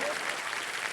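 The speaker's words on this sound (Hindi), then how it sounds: "अब ताली मारो।" Brief burst of dense audience clapping on a game-show set, steady and fairly quiet, with a hint of crowd murmur underneath.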